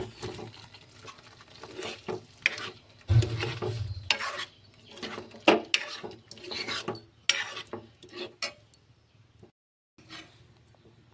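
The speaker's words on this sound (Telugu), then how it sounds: "ఇప్పుడైతే మనం పొటాటోని కూడా వేసి బాగా కలుపుకుందాం" Baby potatoes are stirred into a masala curry in a pan, with irregular scraping, clinking spoon taps and wet shuffling, then a short pause and a few more stirs.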